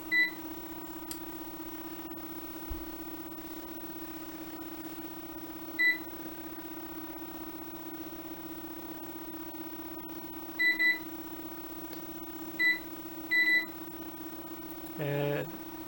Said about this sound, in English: The VT220 buzzer gets used a lot during the boot up